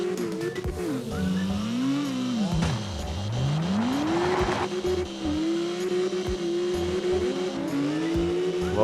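A V8-swapped Honda drift car with a big exhaust in the CarX Drift game, its engine droning and swooping up and down in pitch as it revs through a slide, with tire squeal running along underneath.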